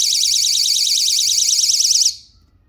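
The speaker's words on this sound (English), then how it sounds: "the sound of the alarm basically frightens them whenever they try to open the door" A door alarm used at night gives a loud, shrill warbling electronic tone that holds steady for about two seconds, then cuts off abruptly, close and alone.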